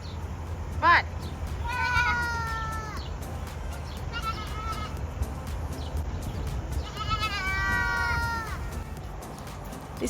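Baby goats at Sheep World in New Zealand let out several loud, wavering screaming bleats, two long drawn-out cries standing out, over a low murmur of outdoor background noise.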